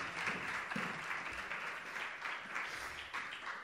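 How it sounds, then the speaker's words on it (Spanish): Faint, steady applause from an audience at a history lecture, even clapping sustained for a few seconds at low level. "Un aplauso para ella, ¿no?"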